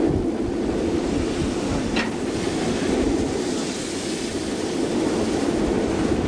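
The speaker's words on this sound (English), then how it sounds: "That loud hissing noise that's being picked up is the sound of the high-pressure steam distributing the coal into the firebox" Steam locomotive R 707 running on the Bendigo line, recorded from the cab as high-pressure steam distributes coal into the firebox: a loud, continuous broadband hiss over a rumbling roar of the moving engine, with no talking.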